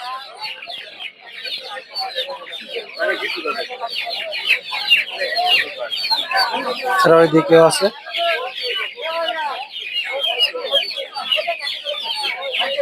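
Farm chicks and small chickens at a rural poultry market for ducks, chickens and quail clucking and cheeping densely and continuously nearby, with someone talking over them.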